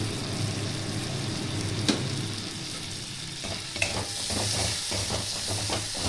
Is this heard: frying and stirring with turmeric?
yes